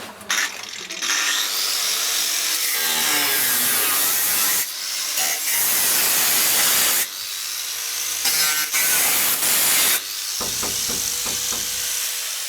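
A power tool cuts through the roof panel of a VW T5 van along a traced line, giving loud sustained grinding and buzzing passes broken by short pauses.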